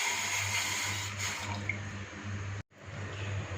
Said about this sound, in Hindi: इसके लिए 1 कप पानी शामिल कर देंगे।